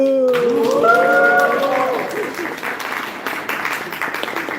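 Audience at a Toastmasters club meeting cheers and applauds for team 2, opening with loud whoops and shouts that settle into sustained clapping from a crowd throughout.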